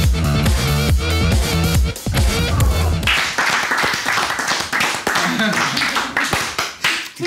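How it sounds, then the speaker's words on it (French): A studio audience claps in an uneven, oddly paced way on a talk show, loud and close, over music and with people talking at the same time. "Ils applaudissent bizarre."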